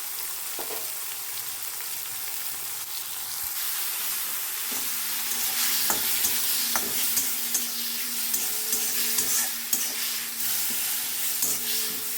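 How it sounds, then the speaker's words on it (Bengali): Spice masala with coriander powder, cumin, turmeric and Kashmiri chilli powder stirred and frying in a pan, a soft continuous sizzle broken by repeated scraping and tapping strokes of a spoon, fairly close and without talk. "মশলাটা সামান্য একটু সামান্য জল দিয়ে মশলাটা কষিয়ে নেব।"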